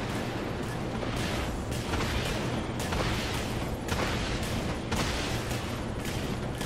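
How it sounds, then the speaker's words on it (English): Missile salvo launching from a warship in the naval combat game Dreadnought, a dense, continuous barrage of rumbling blasts and whooshing bursts recurring every second or so, loud and busy throughout with no pauses. "Missiles away silos reloading, Cap."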